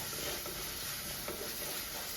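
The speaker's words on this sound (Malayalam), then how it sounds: "നമ്മള് സവാള വഴറ്റിക്കൊണ്ടിരിക്കുകയാണേ" Onions sautéing in a clay pot with steady close sizzling and stirring scrapes; the sound holds even throughout, with no speech.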